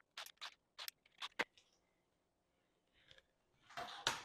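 Scissors snip through a fabric strip in quick close crisp cuts, a burst of several snips followed by a pause, then a scraping slide and another cut, quiet overall with no talking.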